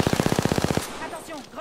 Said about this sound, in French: Sous le feu ennemi.